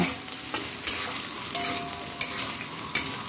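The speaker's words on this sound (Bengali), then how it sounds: "আলুটা একটু ভালো করে ভাজা ভাজা করে নেব লবণ হলুদ দিয়ে" Potato pieces frying in hot oil with salt and turmeric, a steady close sizzle broken by brief scraping clicks of stirring, with no voices.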